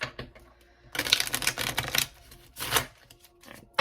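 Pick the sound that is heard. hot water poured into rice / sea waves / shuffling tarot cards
shuffling tarot cards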